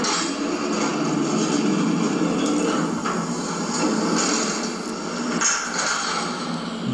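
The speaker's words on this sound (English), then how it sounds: "Very loud doors." Heavy sliding doors of an Armor traction freight elevator rumble and clatter loudly and steadily close by, with a few sharper knocks near the end.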